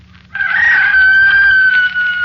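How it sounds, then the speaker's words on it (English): A rooster crows once, a loud, drawn-out cock-a-doodle-doo close by, with no talking. "And below us somewhere a rooster crowed."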